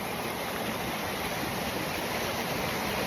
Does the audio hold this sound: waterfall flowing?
yes